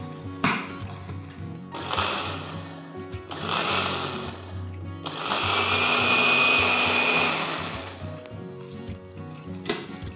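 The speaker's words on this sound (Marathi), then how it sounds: "आता लाल भोपळा काय करायचा, त्यातल्या पाण्यासकट मिक्सरच्या भांड्यामध्ये काढून घ्यायचं आणि याची छानपैकी प्युरी" A mixer grinder purees cooked red pumpkin together with its cooking water, whirring in three loud bursts that grow longer, the last and longest a steady high whine, with short pauses and clatter between runs.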